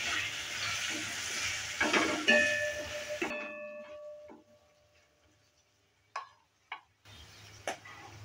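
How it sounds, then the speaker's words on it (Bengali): Spices such as turmeric and salt sizzle briefly in a hot pan for a Bengali cabbage ghonto, a moderate hiss with faint metallic clinks, then the frying drops away to near silence broken by a few soft taps. "মশলাগুলোকে হালকা একটু ভেজে নিয়েছি।"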